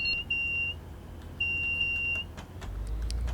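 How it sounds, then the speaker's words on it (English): A train driver's vigilance alarm and a door buzzer sound together in Train Sim Classic on a Manchester Piccadilly to Liverpool Lime Street run: steady electronic beeps, two long tones plus short pips, close and clear over a low cab rumble. "Driver's vigilance equipment went off at the exact same time as the buzzer"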